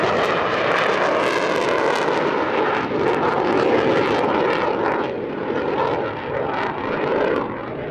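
A military jet flies an airshow display, its loud, continuous engine roar holding steady with slight shifts in pitch as it passes.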